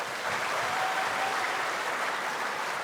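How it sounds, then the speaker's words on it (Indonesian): Studio audience on an Indonesian TV talk show applauds a guest who became a chicken farmer, an even, continuous wash of clapping from a sizable crowd, moderately loud and sustained without speech. "Tepuk tangan untuk Koni."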